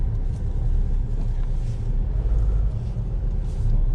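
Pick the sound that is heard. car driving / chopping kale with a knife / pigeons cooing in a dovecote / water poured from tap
car driving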